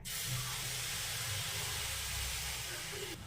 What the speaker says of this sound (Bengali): এবার দিয়ে দেবো আমি 1 বাটি দুধ।